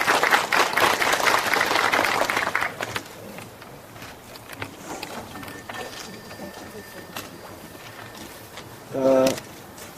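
At the 23rd Pyeonun Literary Award ceremony, an audience claps for about two and a half seconds as an official is welcomed. The clapping is fairly loud and dense, then thins out into scattered faint claps and quiet room noise.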